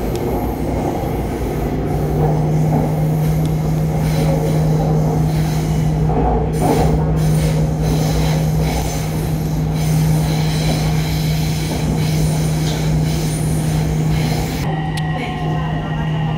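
A metro train runs steadily between stations on an urban rail line, a loud continuous rumble with a sustained low hum and brief wheel squeals and clatter, with a voice heard faintly over it.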